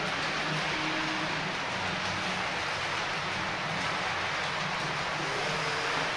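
A model train pulling 11 wagons runs along a layout, giving a steady, continuous rolling rumble with faint wheel hum throughout, with no talk over it.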